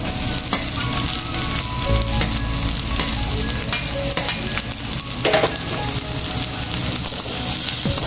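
Onion for spring rolls fries in a pan with a loud, steady sizzle close by, and occasional stirring scrapes sound over it. It runs the whole time with no talking.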